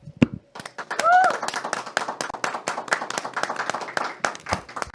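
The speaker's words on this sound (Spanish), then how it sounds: "Un fuerte aplauso para Marisol Flores." A crowd claps enthusiastically, a dense burst of many hands that swells and holds steady after a short pause, with a brief whoop early on.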